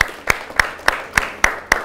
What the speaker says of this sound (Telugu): we should clap for this